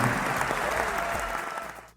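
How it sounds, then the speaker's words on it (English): A crowd applauds loudly and continuously, the clapping thinning and fading out near the end. "A huge applause for the incredible hot entry of Lithuania this year."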